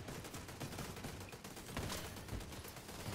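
Automatic turret gunfire in The Division 2, a dense rattle of repeated shots continuing steadily through the stretch over a busy combat backdrop, no talk.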